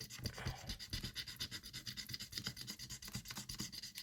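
A scratch-off lottery card is scraped steadily and rhythmically, a close, faint, continuous rasping with rapid repeated strokes and no talking.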